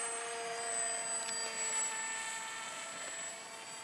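A BMI Arrow 1400 model airplane on its first flight gives a steady, whining motor drone that holds for the whole stretch with only slight swells in loudness.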